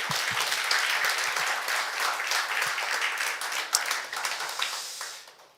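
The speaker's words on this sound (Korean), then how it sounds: "개헌될까 봐 박수 한번 치고 넘어갈까요?" A church congregation breaks into applause, a dense wash of many hands clapping that stays strong and then thins out near the end, with a few low thumps early on.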